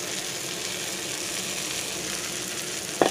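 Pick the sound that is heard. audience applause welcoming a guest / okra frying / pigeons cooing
okra frying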